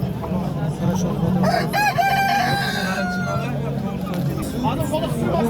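Roosters crow loudly at a poultry market, with several drawn-out crows rising over the lively crowd babble and nearby voices.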